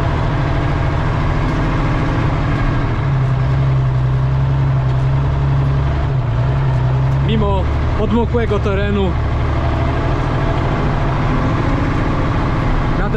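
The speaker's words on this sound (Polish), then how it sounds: "w tym momencie wjechaliśmy samochodem Star w teren" Star truck grinding over wet off-road terrain, a steady low engine drone running throughout, with a sustained whine in the middle and someone speaking over it near the end.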